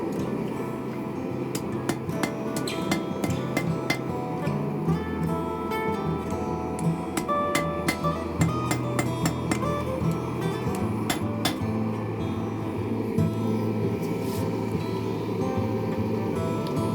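Repeated sharp metallic hammer strikes flattening hot steel ring out over a steady low hum, landing in an irregular rhythm throughout.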